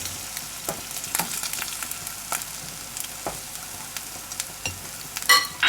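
A patishapta, a Bengali sweet crepe, cooking on its flipped side in a frying pan: a soft, steady sizzle broken by scattered crackles and pops, with a louder scraping clatter near the end.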